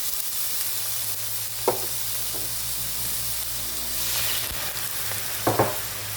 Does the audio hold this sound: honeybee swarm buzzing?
no